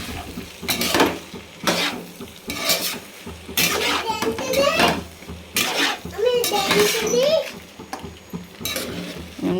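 A utensil scrapes and clanks around a pan of tomato rice with cashews, giving irregular metallic knocks and stirring rustles close by, while a voice talks over the cooking.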